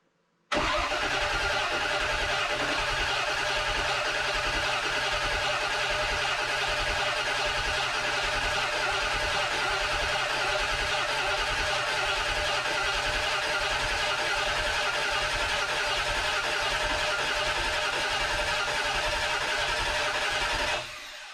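A swapped Ford V8 engine in a Mercedes coupe cranks on its starter for about twenty seconds without catching, a steady, loud, rapid rhythmic churning that stops abruptly at the end.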